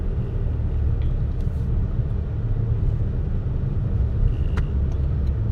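A car idles and creeps through a traffic jam, giving a low, steady engine rumble with road hum that continues throughout, heard from inside the vehicle and without talk.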